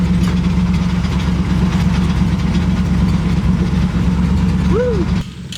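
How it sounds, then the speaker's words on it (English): A log truck's heavy diesel engine idles loud and close with a steady low rumble and rhythmic knock, then drops abruptly quieter near the end. "Riley, the truck's gonna roll for a second."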